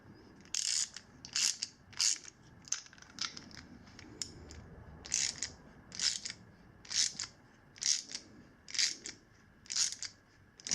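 A bolt on a KLX140 mini supermoto axle slider is snugged up with a ratchet, producing repeated crisp clicking bursts in an uneven rhythm, close and clear over a quiet background.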